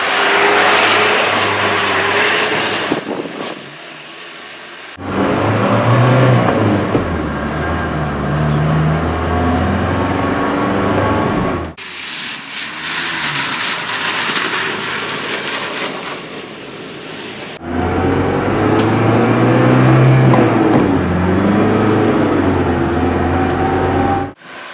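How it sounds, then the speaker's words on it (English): A 1987 Mercedes G-Wagen drives down the road with a loud, steady engine drone and rushing road noise, rising and easing as it pulls through gears, with short dips between stretches. "it's slow and loud and a little chilly, but just watch me go down the road."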